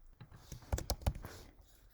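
Someone types on a computer keyboard while entering text for a Glowforge laser design, a brief burst of crisp, close keystrokes, several clicks clustered together amid quiet room tone.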